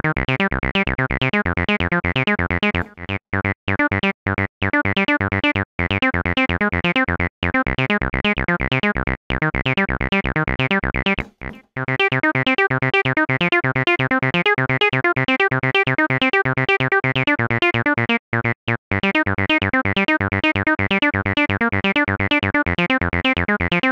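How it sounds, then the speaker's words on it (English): An acid bassline synth built with ABL3 and LFO Tool plays a loud, continuous resonant pattern with rhythmic gated dropouts and a squelchy, buzzing tone, with no talk over it. "a quick and dirty acid bass line using ABL3 in conjunction with Extra Records LFO Tool and Grey Wolf's fantastic"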